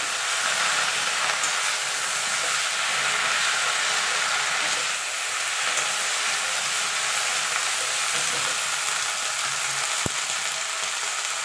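Bottle gourd greens frying and sizzling in a pan while being stirred, a close, continuous hiss with faint scraping, ending with a single sharp tap.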